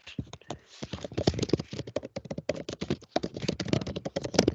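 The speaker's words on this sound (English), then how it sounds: "Sorry, my typing's loud." Rapid, uneven clicking of computer keys typed close by, dense bursts with brief pauses, loud and dry with no talking.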